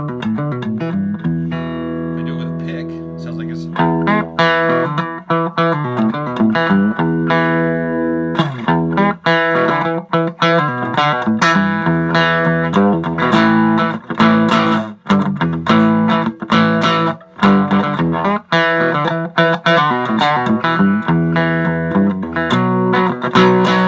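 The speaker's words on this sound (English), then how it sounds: "So if I do it with my fingers, it sounds like this." A cigar box guitar lick picked with bare fingers: a busy, continuous run of plucked, distorted notes with a rhythmic pulse, loud and close throughout, no talking.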